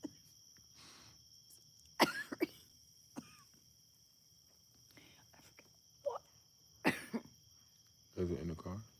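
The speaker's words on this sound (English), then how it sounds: "Why are you coughing so loud?" Loud, close coughs break through a quiet night room at intervals, with hushed whispered talk and faint crickets in between.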